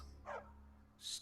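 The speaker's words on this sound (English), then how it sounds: "Stupid dog." A dog in the video game Skyrim gives two short barks, faint against a low background hum, with a brief bright burst of sound near the end.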